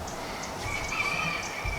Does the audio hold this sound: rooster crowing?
yes